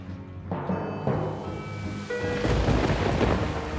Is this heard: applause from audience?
no